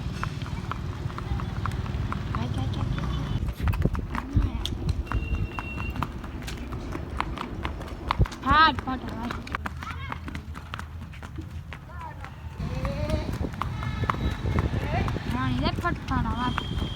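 A mare's hooves clip-clop in a quick, steady rhythm beneath a person talking, with passing background noise.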